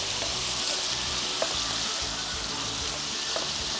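Potatoes frying in a garlic-rosemary glaze, stirred in a hot pan: a loud, steady hiss of sizzling liquid fills the clip, with a few faint scrapes of the stirring utensil, close up and without talk.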